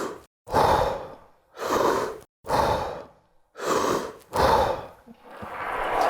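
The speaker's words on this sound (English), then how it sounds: "And then you'll take 3 full breaths at the back of the stroke." Five deep, full breaths taken at the back of the rowing stroke, heard close and loud, each a long airy inhale-exhale separated by brief pauses in a steady rhythm.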